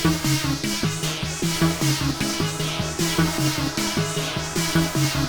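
A synth beat built from Serum presets with saturation adding drive and top-end sparkle, a repeating bouncy melodic pattern over steady beat, full and loud with no talk.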